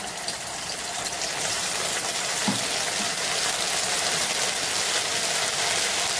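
Ginger-garlic paste, about two spoonfuls, hitting hot oil in a pan, giving a steady broadband hiss of sizzling that holds evenly throughout with no talking.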